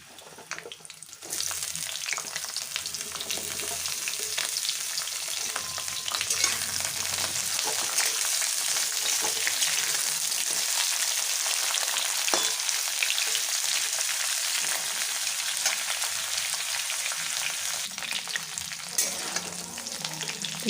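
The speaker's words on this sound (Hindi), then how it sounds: "तेल गर्म हो चुका है तो इसमें डालूंगी सहजन को।" Moringa drumsticks fry in hot oil in a home kitchen, a loud, steady crackling sizzle that starts after about a second and holds throughout, with occasional stirring scrapes and no talking.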